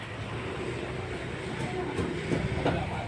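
A train returning from Mahachai rolls in to pull up at the platform, a continuous low rumble with faint rail clatter and a few metallic squeaks, steady and moderately near.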